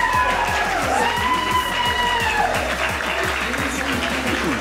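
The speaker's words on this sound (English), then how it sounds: "I can hear the audience reacting to Sienna Heights." A crowd at a Rocket League LAN esports event reacts loudly, with cheering and clapping over rhythmic pulsing arena music, and an excited voice rising above the noise.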